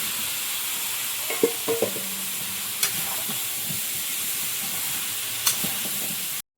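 Pumpkin stir-fried with spices in a pan, a low continuous sizzle and hiss with a few sharp clinks and scrapes of a spatula against the pan, steady throughout and without voices.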